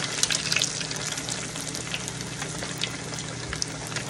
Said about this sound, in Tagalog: At atin pong pipritohin dito sa ating deep fryer.